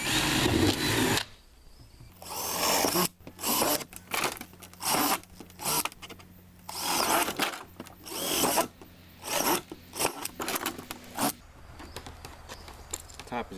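A power drill bores holes into the lid of a plastic trash can being turned into a compost bin, in several loud, short whirring bursts with pauses between them, and someone talks in the gaps.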